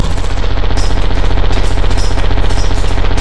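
Rapid, loud automatic fire from a turret in Lethal Company hammers steadily for several seconds, a dense unbroken stream of close shots with faint high metallic pings on top.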